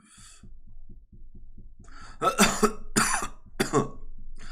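Three harsh, breathy coughs burst out close by, spaced about a second apart, over a steady low thumping pulse.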